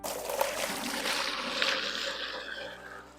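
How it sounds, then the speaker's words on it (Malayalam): Water poured into a container for young fish, a steady close rushing gush that keeps going for a few seconds before easing slightly. "ഇനി നമ്മൾ ഇതിനകത്ത് വെള്ളം ഒഴിക്കാൻ പോവാ."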